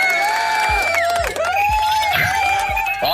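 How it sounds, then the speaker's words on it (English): A crowd cheers and whoops loudly and without a break, with shrill voices and a few dull thumps underneath. "Oh, the crowd went wild."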